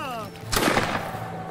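A single sharp musket volley booms out in a Napoleonic Wars battle game, a loud crack with a rumbling tail. A whistling tone fades just before it.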